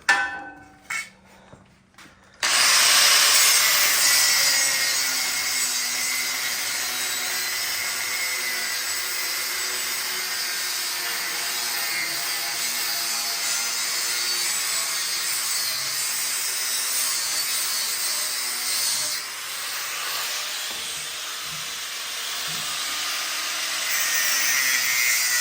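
Square steel tubing being cut for a welded frame, a loud, continuous abrasive whine that starts after a few seconds of clatter and holds steady for over twenty seconds.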